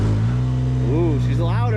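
A tuned side-by-side UTV engine with aftermarket turbo or supercharger upgrades drones loudly and steadily nearby, while a voice briefly exclaims over the noise.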